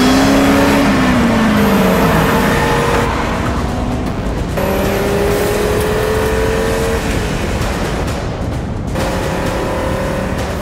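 An Audi RS3 five-cylinder engine revs hard, its loud continuous roar sweeping up and down in pitch through repeated acceleration pulls, with no talk over it.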